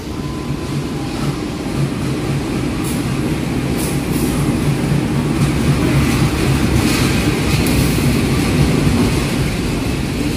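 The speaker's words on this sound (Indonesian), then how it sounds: "Kereta api lokal Garut Cibatuan diberangkatkan dari stasiun Cibatu." Garut Cibatuan local diesel train departing Cibatu station in Indonesia on a crowded New Year's Eve, a steady loud rumble of engine and rolling wagons close by, with faint higher squeals and no talking.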